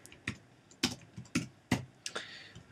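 Fingers typing on a computer keyboard during design work, five or six distinct, quiet, close key clicks spaced irregularly over a few seconds with no speech.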